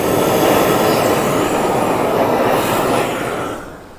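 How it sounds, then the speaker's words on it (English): A GrillGun torch pushes out a loud, steady roaring hiss of flowing gas at close range that holds for about three seconds, then fades away near the end. "as soon as I hear the gas, I can hit the trigger and it'll start."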